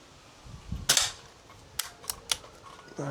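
An S400 air rifle fires at a paddle target: a sharp crack followed by a few short, bright metallic pings and clicks, close and alone in a quiet setting.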